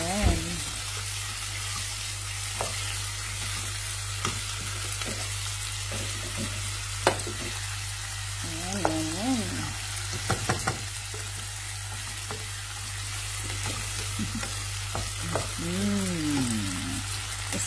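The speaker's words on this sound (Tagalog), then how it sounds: "gawin muna natin na golden yung sibuyas" Onions sautéing in a pan until golden, a continuous crackling sizzle with scattered clicks and scrapes from stirring, plus a low steady hum under it.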